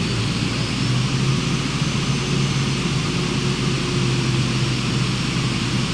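A light aircraft's engine holds a steady, even drone with continuous broadband roar and a low hum as the throttle is brought back up in cruise, heard alone without talk.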